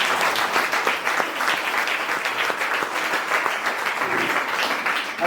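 A church congregation claps together in a dense, sustained round of applause that holds steady for several seconds, loud and close, with a few voices faintly mixed in.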